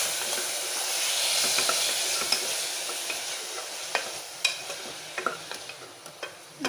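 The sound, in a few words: ground paste sautéing in pan for crab soup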